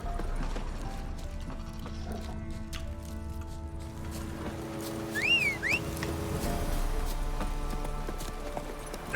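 Hooves of the horse Roach in The Witcher 3, a rhythmic clip-clop of steady walking with a brief whinny partway through, over low ambient game sound and no talk.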